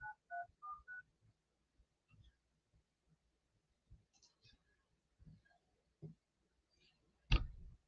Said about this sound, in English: Let's call the other guy, Samuel, because that's team leader.